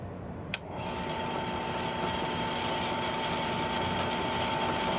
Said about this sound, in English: I'll try it again on the drill press